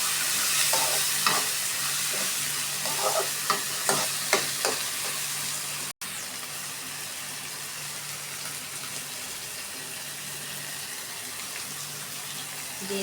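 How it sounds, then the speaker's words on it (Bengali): Onion paste and ginger paste being stirred in a hot pan, a steady sizzle with a run of spatula scrapes and knocks early on, then continuous frying hiss, close and without talking. "ভালোভাবে নাড়তে থাকবে।"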